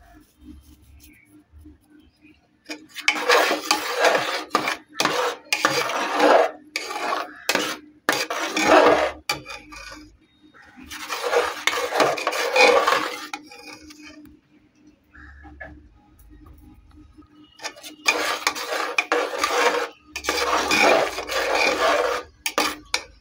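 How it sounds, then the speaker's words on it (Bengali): Dry kasuri methi (fenugreek leaves) being roasted and scraped in a dry kadai, giving repeated bursts of raspy, scratchy scraping and rustling, close and fairly loud, separated by short quiet pauses. "কড়ার মধ্যে আমি একটু কাসুরি মেথিটা গরম করে নিচ্ছি, হালকা করে ভেজে নিচ্ছি শুকনো কাঠখোলায়"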